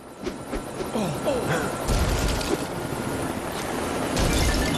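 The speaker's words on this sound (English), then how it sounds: "You can fly a helicopter?" A helicopter takes off in the LEGO City Undercover video game, its rotor chopping louder and denser after a quieter opening with a few scattered game effects, with no voices over it.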